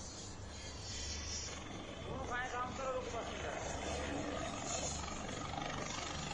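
A helicopter carrying a bride and groom drones steadily at moderate distance over a village in Lalsot, Rajasthan, its rotor and engine noise continuous beneath a crowd's murmur and a voice speaking over it.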